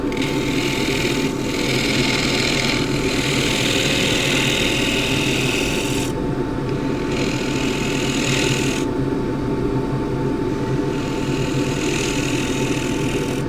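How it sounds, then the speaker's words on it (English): A scraper cuts a rectangular wooden bowl spinning on a lathe, giving a steady, close hum with a rough scraping texture that comes and goes in passes. "I like to do it with a scraper."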